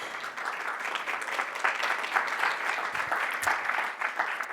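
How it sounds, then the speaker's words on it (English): Steady applause from an audience, sustained clapping throughout at moderate volume, with no speech. "give him a big round of applause"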